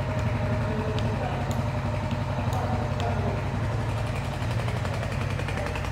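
A Royal Enfield Hunter 350 single-cylinder motorcycle idles up close, a steady rhythmic thumping exhaust note that stays even and loud throughout.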